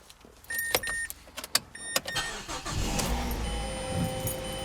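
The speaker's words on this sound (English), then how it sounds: "So now it's time to start the car and see if it runs." Mazda 5 engine cranking and catching after EGR valve cleaning, with clicks and starter whir first, then the engine firing and settling into a steady idle rumble nearby.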